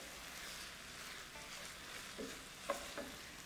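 Liquid bubbling and reducing in a hot pan for Basque chicken, a faint steady sizzle with a few soft scraping stirs near the end.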